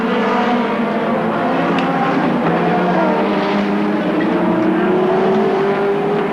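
Touring cars in a 1990 ATCC race at Winton roar past, a loud continuous engine drone with a steadily rising pitch and broadband rumble throughout, no voices.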